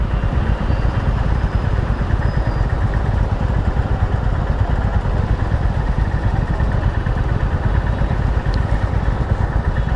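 A new 2025 Honda CB350 RS motorcycle engine runs in a steady, close, loud, low throb with an even mechanical rhythm and no speech over it.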